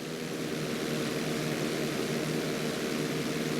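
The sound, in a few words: airplane performing inside loop in GTA V video game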